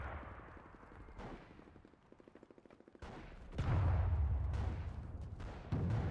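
Enemy gunfire in the World War II shooter Enlisted, set in a Pacific battle, with scattered rifle shots and bursts of rapid machine-gun fire, some distant and faint, others closer and louder, followed by heavier booming blasts.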